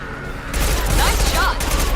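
Rapid gunfire in the Mass Effect video game, a dense continuous burst of shots starting abruptly and holding loud to the end, with brief voice-like chatter mixed in.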